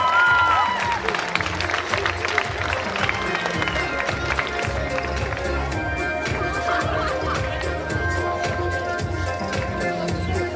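Sustained crowd applause at a sports gala in Lubawa honouring an athlete from a student sports club, dense clapping and cheering filling the hall throughout with steady loudness.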